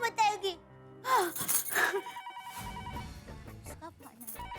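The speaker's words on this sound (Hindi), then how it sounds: "उसका फोन है।" An indoor telephone rings in a Hindi TV sitcom household scene. The short electronic ring is brief and sits among lively voices and other sounds of the scene.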